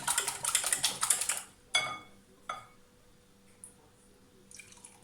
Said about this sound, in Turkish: Şöyle bunu bir güzel çırpacağız.